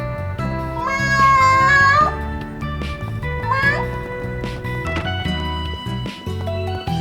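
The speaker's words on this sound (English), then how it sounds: "look at the kitty!" A cat meows in the video game Trails Through Daybreak, a few clear rising mewing calls standing out over steady background game music.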